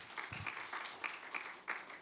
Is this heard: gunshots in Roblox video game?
no